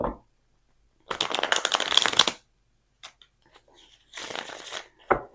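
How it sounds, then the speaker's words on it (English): Tarot cards being shuffled by hand in a few quick riffling bursts, close and crisp, separated by near silence and a faint soft sound. "Can I get a clean shuffle, Spirit? Let me get a clean shuffle."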